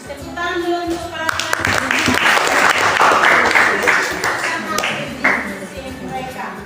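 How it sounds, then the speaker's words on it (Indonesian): Applause from an audience at a school teaching performance session, a crowd clapping steadily under a speaker's voice, with tonal pings and taps scattered through. "Silakan tepuk tangan dulu untuk para"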